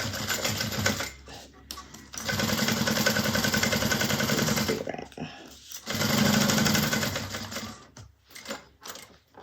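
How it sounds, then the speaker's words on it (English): A sewing machine stitches around three sides of a Nola bag, running in two long sustained bursts with a short pause between and a shorter trailing run, close and steady. "we're going to just sew around these 3 sides"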